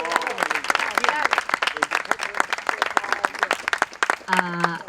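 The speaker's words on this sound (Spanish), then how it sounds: "Un aplauso." An audience at a year-end class closing breaks into dense applause, a crowd of hands clapping rapidly and close by, with voices talking and calling out over it.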